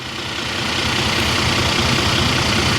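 A heavy MX-11 diesel coach engine rated at 400 horsepower idles loudly nearby, a steady low rumble with a constant throbbing chug and no voices.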